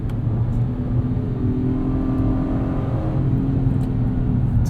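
The V6 engine of a 2022 Acura MDX A-Spec pulls steadily under acceleration while driving, a smooth, continuous mid-pitched hum with a faint rising note and road noise beneath, heard from inside the cabin without talk.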